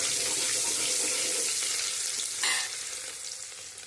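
Small onion pieces and asafoetida crackle in hot oil for a Gujarati eggplant, cauliflower and pea curry; a steady, dense sizzle swells briefly in a sharp burst midway, then gradually eases off.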